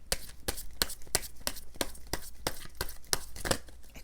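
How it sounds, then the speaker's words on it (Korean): A deck of tarot cards is shuffled by hand in a quick series of crisp, papery flicks, about a dozen sharp bursts in uneven rhythm. The shuffling is close and clear, with no talking. "제가 지금 손목이 조금 안 좋아서 셔플할 때 조금 어설픈 그런 모습이 있네요."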